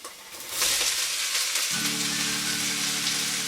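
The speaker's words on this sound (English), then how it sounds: "We're going to sweat these down for around 4 minutes." Chopped carrots and celery drop into a hot pan and begin sizzling, a bright hiss that rises sharply after half a second and stays steady, with a low hum joining partway through.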